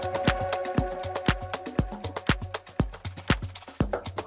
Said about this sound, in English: we could always add in another transition sound.